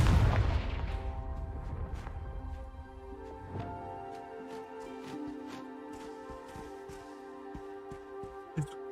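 A Confringo spell explosion in a video game hits as a heavy, booming blast at the start, then decays into a ringing, tonal tail. Faint crackles and pops follow, and a small burst comes near the end.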